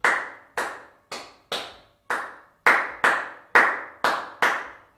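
Rhythmic hand clapping in a children's music lesson, about ten crisp, close claps in an even, slightly syncopated pattern, each ringing briefly before the next, with no talk.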